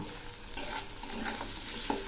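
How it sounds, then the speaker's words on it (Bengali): Soft sizzling of shrimp lightly frying in oil, with a few stirring scrapes; quiet and close. "এগুলি হালকা করে ভেজে নেব"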